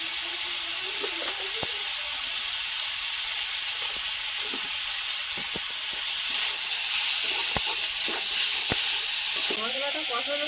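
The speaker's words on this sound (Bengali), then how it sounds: "হলুদ আর লবণ দিয়ে ভেজে নেবো মশলাটা।" Spice masala with turmeric and salt frying in a pan for a bhetki fish curry, giving a steady hiss and sizzle with occasional clinks and scrapes of stirring, close and continuous.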